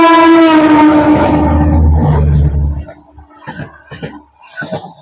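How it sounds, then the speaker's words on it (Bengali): Trains rush past a railway station: a loud blaring horn rides over a heavy rolling roar, which then drops away into scattered metallic clatter and quieter rumbling. "একটার পর একটা শুধু ট্রেন পাস হয়েই যাচ্ছে দেখুন।"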